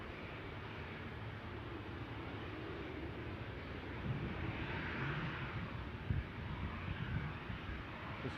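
A Jetstream aircraft at Newcastle airport gives a steady, distant drone with a broad rumble that rises slightly about halfway through, heard through wind on the microphone.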